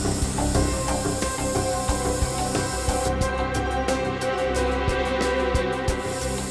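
A steady hiss of spray from a can, with a run of short sharp pulses toward the end, over a constant low rumble of background noise.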